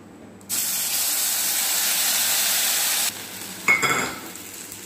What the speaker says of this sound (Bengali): তো এবার আমি বাদামের পিসটা ছেড়ে দিই।